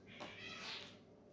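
Cats romping indoors in the background, giving a faint, short meow-like cry over low room noise, distant and quiet.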